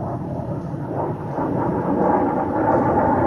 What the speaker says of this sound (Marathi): पाहूया तेजस विमानाचे चित्तथरारक दृश्य